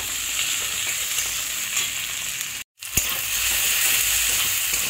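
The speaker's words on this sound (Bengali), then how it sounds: "ভাজা ভাজা হয়ে গেছে পেঁয়াজটা আলুটা সব টমেটোটা একটু ভেজে ভেজে নেওয়ার পরে" Onion, potato and tomato fry in oil for a cabbage curry, giving a steady loud sizzle that cuts out for a split second before resuming, with a brief clink of a utensil.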